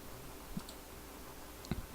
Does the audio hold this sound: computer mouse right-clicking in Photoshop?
yes